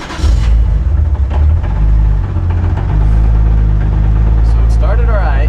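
A 2JZ engine in a Nissan S14 cranks and fires up, settling into a loud, steady low rumble close by, with a brief high whine near the end.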